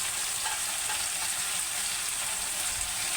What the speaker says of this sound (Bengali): ডালটা সিদ্ধ হয়ে গেছে, এখন আমি ভাজিটা বসে দিয়ে নিচ্ছি।